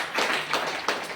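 A short burst of audience clapping, with a few loud, fairly close hand claps in quick succession over about a second.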